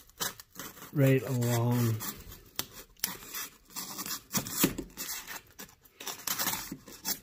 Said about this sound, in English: take the fresh utility knife, and I'm just gonna cut